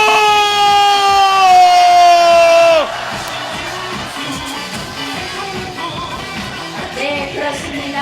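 Outdoor Korean presidential election rally crowd in Yeongcheon gives a loud unified roar that holds for nearly three seconds, then breaks off into softer, scattered cheering and shouts.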